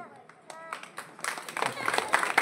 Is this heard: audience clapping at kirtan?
yes